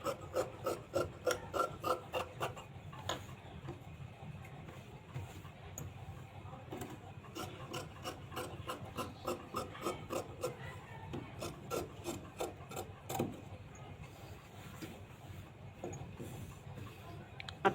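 Scissors cutting blouse fabric along marked lines, heard as a close series of crisp snipping and rasping strokes in bursts, with quieter pauses in between and no talking.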